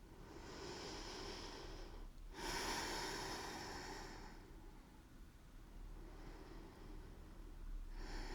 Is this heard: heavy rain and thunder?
no